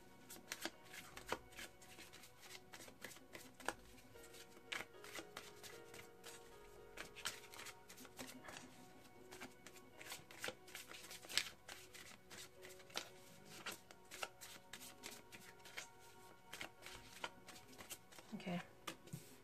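Tarot cards shuffled for a reading, continuous close riffling and soft slapping of the deck carrying on over almost twenty seconds, with a voice talking over the cards throughout.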